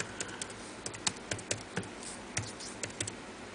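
Keys tapped on a USB keyboard plugged into a Samsung Galaxy Tab 10.1 through an adapter, a dozen or so crisp, irregular clicks at a near, moderate level over faint room hiss.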